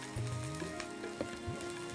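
Leeks hit a pan of frying onions and peppers, giving a soft, continuous sizzle with a few faint pops and a light background hum, moderately quiet and close.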